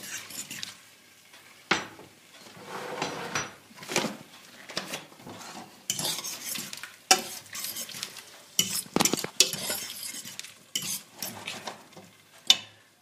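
A sausage rougaille mixture stirred in a pot with a little water, with repeated scraping and clinking of a utensil against the pot in uneven bursts, fairly close and alone without talk.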